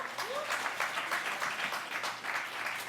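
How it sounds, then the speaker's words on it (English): Audience applause at a tech talk introducing an AI DevOps tool, dense clapping filling the room evenly for a few seconds, steady and fairly loud with no speech over it. "with a round of applause."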